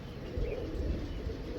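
Pigeons near their loft giving low, soft cooing calls over a muffled, rumbling background, fairly faint and continuous, with no one talking.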